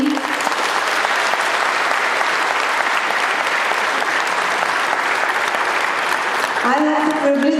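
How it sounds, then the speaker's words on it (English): Parents at a pre-primary school annual function applaud the music team, a loud, dense, sustained round of clapping, with a voice at the start and speech resuming as it ends. "a huge round of applause for this team"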